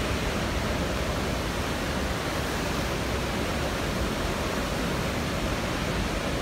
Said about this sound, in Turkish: şu an tam şelalenin tam üstündeyim